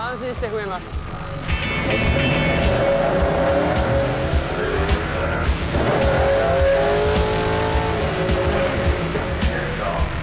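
A four-wheel-drive race car at the Goodwood Festival of Speed accelerates at full throttle, its loud engine roaring continuously with rising pitch sweeps and bursts of tyre squeal while a voice talks over it.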